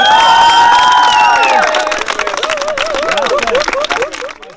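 Crowd at a Slovak dance crew's music video shoot, cheering and shouting with bright voices, the noise loud and sustained across the whole stretch, with some talk mixed in.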